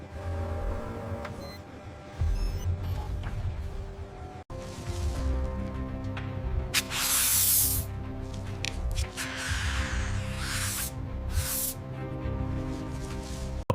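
Ceramic coating sprayed onto a Mercedes car on an assembly line, with bursts of airy hissing spray rising and falling over a steady layer of background music and machinery.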